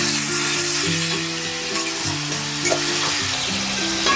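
Chicken filling for kachori sizzles steadily in oil in a frying pan as a pinch of turmeric is stirred through it, a continuous loud fry with scraping stir strokes and strong tonal music playing alongside throughout.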